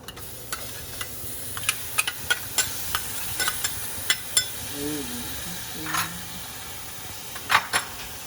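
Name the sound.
green seasoning and garlic frying with curry powder in pan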